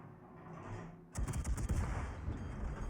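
A warship's naval gun fires in the video game World of Warships, a single sharp booming salvo that rumbles on afterward, following a short stretch of quieter game ambience.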